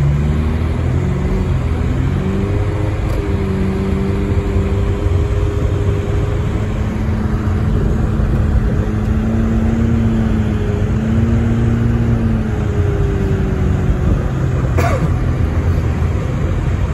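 A car drives a slushy, snowy road at 33 degrees in Big Bear, California, making a steady, loud engine drone and road rumble that holds throughout with no talking.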